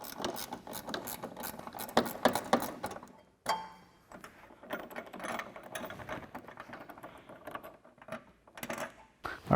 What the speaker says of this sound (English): I'm gonna use a 10mm ratcheting wrench for this guy just because it's at a tough angle